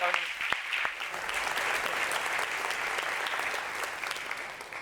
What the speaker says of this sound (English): So please join me in applause for welcoming May-Britt.